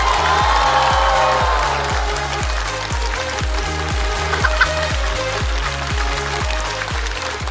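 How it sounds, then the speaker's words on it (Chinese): Studio audience applause at a stand-up comedy show, dense and sustained clapping with a few cheers, heard over a pulsing music bed throughout. "再次把掌声送给雪冰和小帕。"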